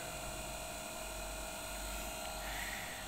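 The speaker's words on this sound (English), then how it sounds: "right now it's 1130 RPM, and you can listen the sound of the machine" A shaft balancing machine's motor runs steadily at 1130 RPM, giving a continuous, loud mechanical hum with a high whine layered on top and no break across the whole stretch.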